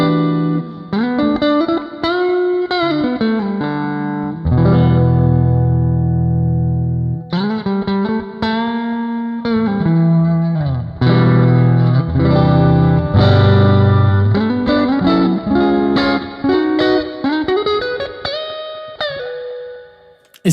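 Electric guitar played through an Amplitube 5 Jimi Hendrix amp model with added gain and boosted bass, giving a loud, distorted tone with chiming chords, sustained notes and short melodic runs that fill the whole passage with no talking.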